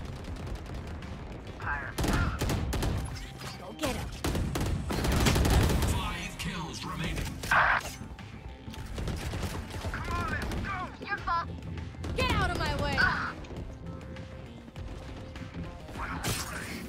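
Rapid gunfire from Valorant plays in repeated bursts through most of the stretch, loud and close, mixed with clanks and other game effects, while a player talks over parts of it.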